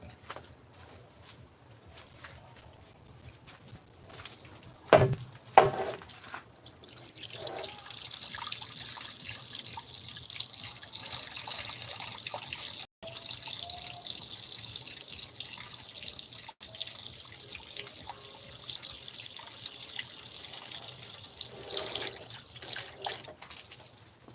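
Water runs from a tap into a sink or pot with sliced fish, a steady trickle and splash that continues at moderate level, broken by a couple of louder knocks early on.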